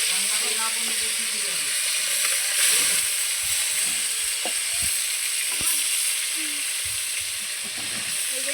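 Koi fish frying in hot oil, a steady loud sizzle and hiss throughout with occasional faint clinks and stirring sounds underneath.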